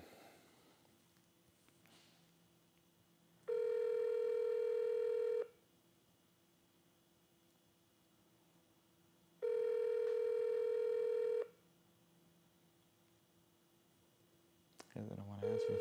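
Calling a GameStop store line, two long, steady electronic ringback tones sound about six seconds apart, with quiet line hiss in the gaps and a brief burst of handset noise at the end.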